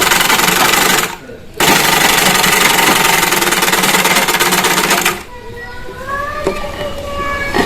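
A sewing machine doing hidden stitching on a baby girl's kurti, running loud and fast in two long bursts with a short pause between, then stopping as someone talks.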